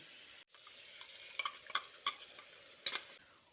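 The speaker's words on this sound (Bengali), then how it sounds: "এবার মশলাটা দু তিন মিনিট মতো কষিয়ে নিচ্ছি" Spice paste with ground poppy seed and mustard paste being stirred and sautéed in a pan for a pointed gourd dish, a soft low sizzle broken by several sharp spatula scrapes and clicks.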